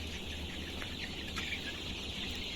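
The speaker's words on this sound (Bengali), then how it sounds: "তো দেখুন এখানে অনেক পাউমি মুরগি রয়েছে" Thousands of 30-day-old Fayoumi chicks in a farm shed make a continuous dense peeping and cheeping chorus over a low steady hum.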